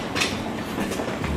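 A train rumbles at a railway station in Belgium, a steady low roar with faint rhythmic rattling of carriages and brief higher squeaks, continuous and moderately loud without any talk.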